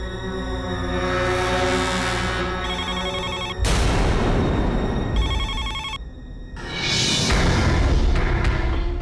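A telephone rings repeatedly in a Hindi TV drama scene, its bell tone layered over a loud dramatic music score with sudden stings and swells, no speech.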